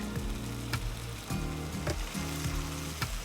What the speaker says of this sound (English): I want a really hot pan because I want to sear the meat beautifully, so I can lock in all that flavor.